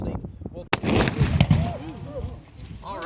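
Musket fired during a historical demonstration at Old Fort Niagara, a War of 1812 fort on Lake Ontario: one sharp, loud report early on, followed by crowd noise and voices talking.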